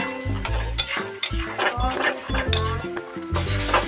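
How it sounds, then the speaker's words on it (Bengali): A spatula stirs spices in a pan for Bengali-style doi katla, making repeated close scraping strokes and light clinks over a steady sizzle, with a tonal hum underneath. "ভালো করে নেড়ে চেড়ে আমি মশলার জলটাকে শুকিয়ে নেব"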